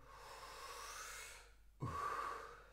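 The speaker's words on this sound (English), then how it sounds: "Breathe in, belly, chest, and you let go." A quiet exhalation trails off into a brief pause, then a deep, airy breath is drawn in sharply during a guided breathing exercise, close and soft.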